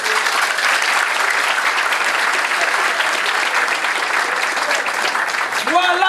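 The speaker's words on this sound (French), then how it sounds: "je vous invite à l'applaudir à nouveau." An audience applauds at a ceremony installing a new university rector. The clapping is loud and sustained, and a voice begins speaking just as it ends.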